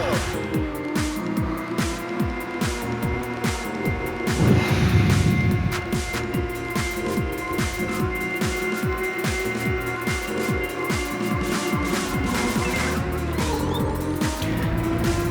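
A drift car races around a track in the video game Ridge Racer Type 4, its engine droning steadily throughout with a brief burst of tire noise near the middle, all fairly loud and continuous.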